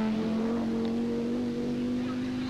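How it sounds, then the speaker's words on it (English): A Ford rally car arrives on a gravel stage of the 1986 Circuit of Ireland, its engine holding a steady, loud drone with a strong low tone throughout, close by and unbroken. "Mark Lovell in the more fortunate Ford heralds the arrival of Mikkola, who is desperately trying to stay in the event"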